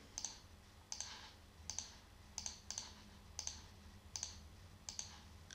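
Computer keyboard keys pressed in short clusters of crisp clicks, about two to three taps at a time repeating roughly every second, fairly quiet over a low background hum, with no voices.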